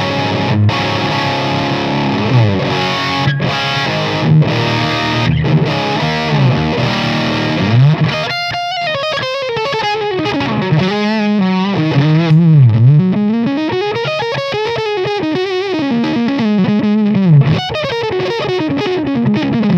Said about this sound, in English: we're basically in fuzz pedal territory when you're over top of a gain sound